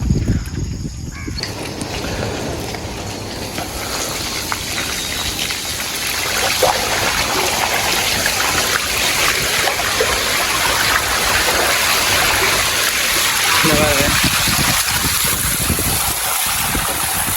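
Floodwater after heavy rain in Inuvil, Jaffna, runs through flooded ground among standing cassava plants, a loud, continuous rushing and trickling flow that holds steady close by for the whole stretch.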